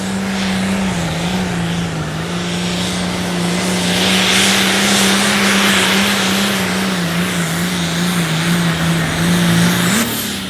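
A Generation 1 John Deere tractor in a light limited pro stock pull at Rock Valley, its engine roaring loud and steady at high revs for the whole stretch, with a slight pitch dip near the start and a rise at the end.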